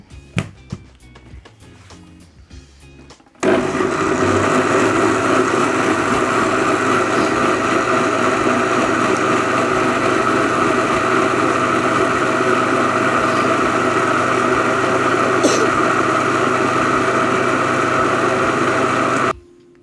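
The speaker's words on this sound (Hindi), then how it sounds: "इसका ढक्कन बंद करें और इसे ग्राइंड करना शुरू करें।" An electric grinder blends plums with sugar, salt and water for juice, a loud, continuous whirring motor roar that starts abruptly after a few soft knocks and runs steadily to the end.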